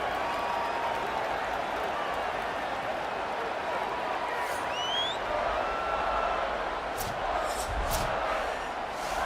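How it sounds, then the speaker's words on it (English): Steady, dense stadium crowd roar in a college-football video game with Texas A&M, filling the whole stretch at an even level with a few brief whistle-like rises and faint claps near the end, no clear voices on top. "This crowd trying to do its part to get inside the kicker's head."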